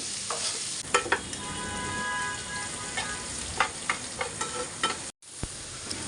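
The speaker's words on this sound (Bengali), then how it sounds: "এই পেঁয়াজটাকে আমি একটু লাল লাল করে ভেজে নেব" Onions fry in a hot pan with a continuous sizzle and intermittent scraping stirs from a utensil, heard up close without speech, cut by a brief gap near the end.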